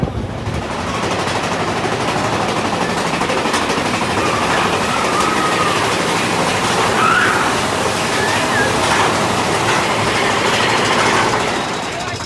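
A loud, continuous roar of the Thunder Mountain Railroad mine train roller coaster rumbling along its track, steady rushing noise throughout with faint squeals and no clear talk.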